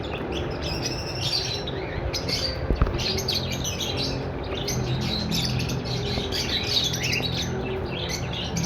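A breeder pair of albino black split red-eye birds call in steady, busy chirps and squawks that go on throughout, mixed with other birds nearby and a constant background hum.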